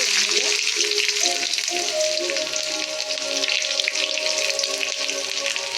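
Shallots frying in coconut oil in a pan give a loud, dense, continuous sizzle and crackle that stays steady throughout, close and without speech.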